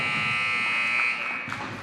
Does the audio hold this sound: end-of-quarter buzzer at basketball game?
yes